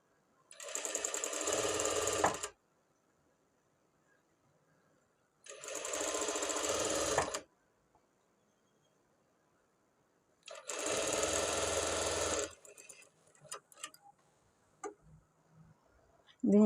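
A sewing machine stitches a dress lining to the shoulder in three loud, steady bursts of about two seconds each, separated by pauses, with light clicks and handling noises afterward.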